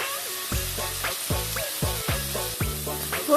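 Cashews and rock salt sautéing in a pan for paneer butter masala, a steady sizzle with repeated rhythmic scraping strokes of a spoon against the pan, close and fairly loud, with no one speaking.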